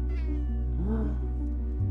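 A cat meows once in a video game trailer, a clear rising-then-falling cry over a steady low hum of game audio, with no talking.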